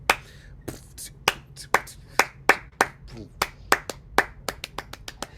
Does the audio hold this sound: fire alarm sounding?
no